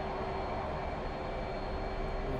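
The twin jet engines of an F/A-18C in DCS World run at full afterburner, a steady, loud, broadband roar with a faint whine that stays constant throughout.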